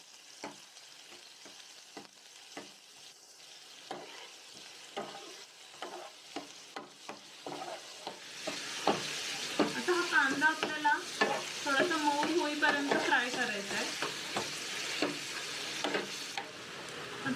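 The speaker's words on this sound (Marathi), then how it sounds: "आता हा तेजपत्ता थोडासा फ्राय झालाय की त्याच्यामध्ये मी एक कांदा टाकून घेते" Finely chopped small onion frying in oil with a bay leaf, starting with scattered taps and stirring clicks, then building into a steady, fairly close hiss and crackle that holds to the end, with no voices.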